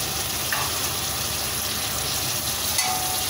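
Mint and coriander leaves sautéing in mushroom biryani masala, a steady hiss of frying oil with faint stirring scrapes, continuous and moderately loud with no talk.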